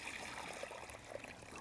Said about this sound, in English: Now your next thing is to get your bowl and half fill it with water.